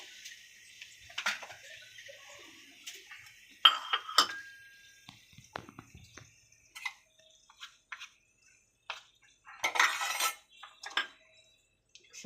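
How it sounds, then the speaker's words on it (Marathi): Garlic is mashed with a drinking glass in a home kitchen for garlic bread, giving scattered clinks and taps of glass against a bowl or board, irregular and sharp, separated by quiet gaps. "असं पेल्याने मॅश करून घ्या."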